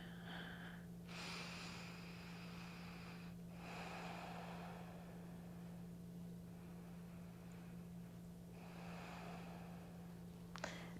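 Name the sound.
deep breathing during a yoga twist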